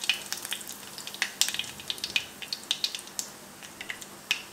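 Dried red chillies crackling in hot oil with spluttering mustard seeds while pavakka theeyal is cooked, giving a steady close run of sharp pops and crackles over a soft frying hiss.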